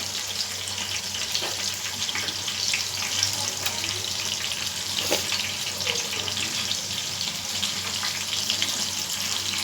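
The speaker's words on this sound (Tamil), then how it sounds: "இப்போ இது நல்லா பொரிஞ்சு வரட்டும்." Fish frying in hot oil gives a steady, dense crackling hiss that carries on unbroken and fairly loud, with no voices.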